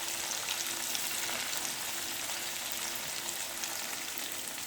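Fish pieces frying in coconut oil in a pan give a steady, moderate sizzle, an even bubbling hiss with faint spits throughout and no voices.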